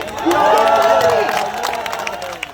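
An audience at a talk on caste-based reservation breaks into loud clapping mixed with cheering and raised voices, a strong burst that fades over about two seconds.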